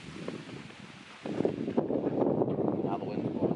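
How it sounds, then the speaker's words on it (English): Wind gusts around an outdoor beehive during a midsummer inspection, with a soft rush that swells into louder, rumbling buffeting on the microphone partway through. "Now the wind's blowing that way."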